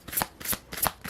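Tarot cards being shuffled by hand in quick riffling bursts, three brisk papery shuffles close up with no voice over them.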